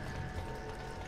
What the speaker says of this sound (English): We gotta go up this ladder